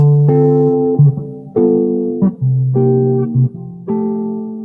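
Clean guitar chords played in a slow progression, each struck and held briefly, with a few quick pickup notes between them, alone and close.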